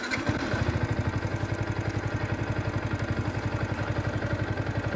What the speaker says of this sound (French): On va mettre la moto en route.